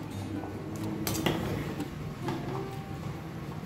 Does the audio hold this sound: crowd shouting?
no